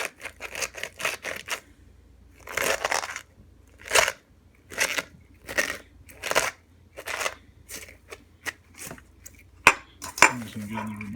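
Vegetables are muddled by hand in an e-Jen fermentation container, producing a series of rhythmic squishy, crunchy compressions, close and moderately loud, with a few clinks near the end.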